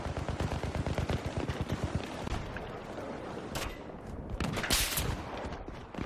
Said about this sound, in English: Yeah, it's its grenade launcher.